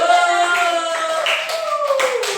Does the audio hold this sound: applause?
yes